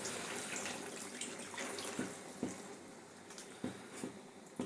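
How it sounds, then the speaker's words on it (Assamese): Water is poured into jackfruit masala frying in a pan, a continuous soft splashing stream with a few light knocks near the end, fairly quiet and close. "এতিয়া ইয়াতে অকণমান পানী দিছোঁ মই।"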